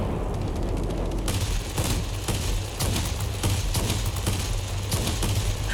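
Aircraft machine gun fire from an XFL-1 Airabonita fighter in the World of Warplanes game, a continuous rattling fusillade of rapid bursts over a steady engine drone, loud and close throughout.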